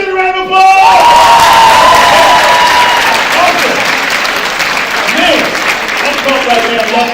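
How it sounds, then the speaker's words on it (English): A keynote audience bursts into loud applause with cheering and whoops, a sustained roar of clapping and shouting voices right after a speaker's closing line. "Give me some round of applause."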